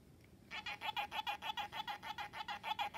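Blinky ghost plush toy from Pac-Man sounding an electronic warble, a fast pulsing run of repeated beeping tones that starts abruptly after a brief quiet moment and continues evenly.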